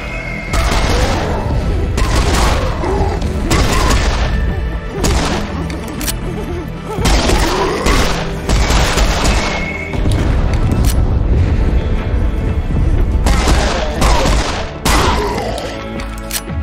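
Heavy gunfire and explosions in the first-person shooter Serious Sam 4, with repeated loud blasts and booming bursts arriving every couple of seconds over a dense, continuous rumble of battle.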